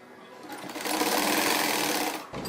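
A sewing machine runs in a steady buzzing whir while stitching piping onto a girl's kurti-shirt, speeding up into a continuous close rattle and then slowing to a stop, with no talk over it.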